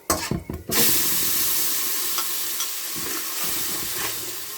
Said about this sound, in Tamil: இப்படி செஞ்சு கிளறி கொடுங்க